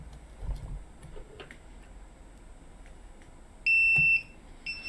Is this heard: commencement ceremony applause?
no